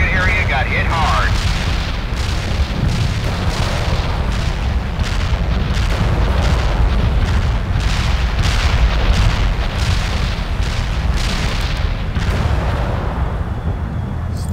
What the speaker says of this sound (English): Fire mission received. Artillery barrage inbound.